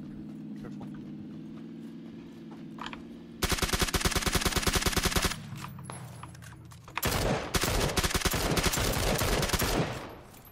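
Rapid bursts of suppressed gunfire in a first-person shooter video game, two loud sustained volleys of dense repeated shots separated by quieter game ambience with a low drone.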